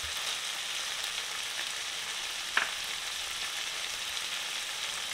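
Chicken pieces frying in oil in a pan while being stirred for a street-style chicken roll, a steady, moderately loud sizzle throughout with one brief clink of a utensil midway.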